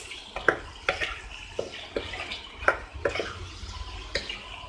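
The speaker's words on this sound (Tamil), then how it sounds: "சிக்கனையும் இந்த மசாலாவோட சேர்த்து மிக்ஸ் பண்ணிடலாம்." Chicken is stirred into masala in a pan, with soft repeated spoon clinks and wet scraping at an unhurried rhythm, fairly faint.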